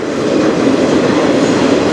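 The 491 freight train rolls past on a Strathroy Subdivision track, a loud, continuous close rumble of rail cars with dense wheel noise and no talk.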